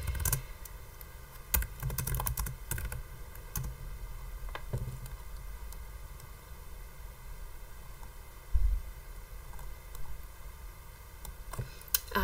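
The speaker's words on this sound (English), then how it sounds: "Just by typing in the name." Soft, irregular computer keyboard clicks tap away in short bursts and pauses over a faint steady hum.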